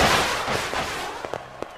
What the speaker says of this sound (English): Wait, don't fireworks explode?